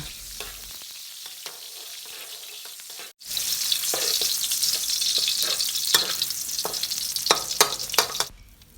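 Crushed Chinese garlic stir-frying in hot oil, a steady loud sizzle with the scrape and clatter of a spatula stirring in close, after a brief quieter start.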